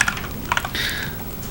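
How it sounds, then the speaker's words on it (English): Rapid clicking keystrokes on an Ergodox split keyboard, a quick burst of close, crisp taps followed by a denser run of typing, with no talking. "Keyboard, it's an Ergodox."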